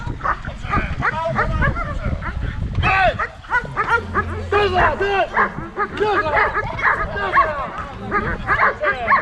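German Shepherd barking hard during a protection demonstration at a national dog show, a rapid run of loud, close barks and yips that keeps going with brief pauses.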